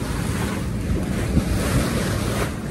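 Steady wind rush and breaking waves sound loud and close aboard a sailboat motor sailing north with the genoa out, a continuous broadband roar with no talk.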